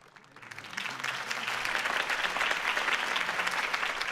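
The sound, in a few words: crowd applause in video game Batman Telltale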